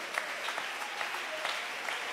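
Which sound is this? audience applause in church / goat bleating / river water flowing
audience applause in church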